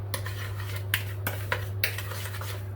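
A spoon knocks and scrapes around a bowl of sieved sponge cake ingredients, about five sharp clinks in a loose rhythm over a steady low hum, close up.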